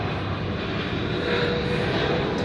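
Steady broadband engine roar of an airplane passing overhead near Sydney Airport, continuous and fairly loud, swelling slightly in the middle with no voices.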